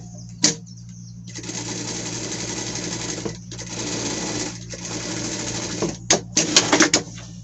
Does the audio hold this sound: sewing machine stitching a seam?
yes